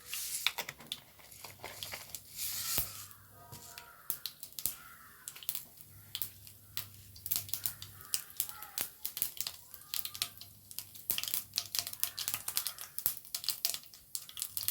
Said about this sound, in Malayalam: വെളിച്ചെണ്ണ ചൂടായിരിക്കുന്നു ഇനി ഇതിലേക്ക് കടുകാണ് ഇട്ട് കൊടുക്കുന്നത്